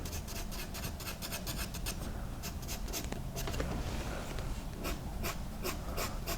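Graphite pencil hatching a shadow beneath the lower lip in a lip drawing, a close, steady scratchy rasp of repeated short strokes against paper, alone and rhythmic throughout.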